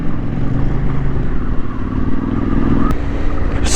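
Trail motorcycles riding across Rudland Rig on the open North Yorkshire moors, a loud close engine drone with steady revs and rattling, wind buffeting throughout.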